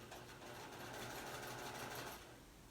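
A sewing machine stitching binding onto a Thanksgiving placemat runs in one steady, continuous whir, close and moderately loud, easing off slightly near the end, with no talking.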